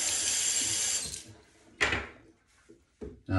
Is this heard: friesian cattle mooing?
no